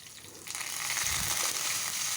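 Curry leaves dropped into hot oil with chilli pieces for a tempering, crackling into a loud, steady sizzle that jumps up about halfway through and holds, no talking.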